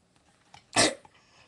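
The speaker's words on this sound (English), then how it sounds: "Sorry, I just coughed really loud." A single loud, sharp cough bursts out close to the microphone against a quiet background, with a few faint clicks before and after it.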